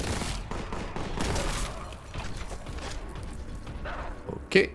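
Gunfire crackles in a Warhammer 40,000 shooter as rapid volleys of shots rattle on over a noisy battle backdrop, ending in a sharper, louder burst near the end.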